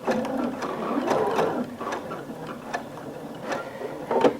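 Sewing machine stitching fabric for a pillow, a close steady mechanical whir broken by a rapid string of clicking needle strokes, with no voices.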